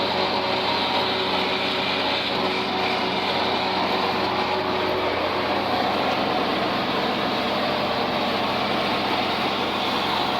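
A tractor mows hay in an open field, its engine giving a steady, loud, unbroken drone with broadband mechanical noise throughout and no speech.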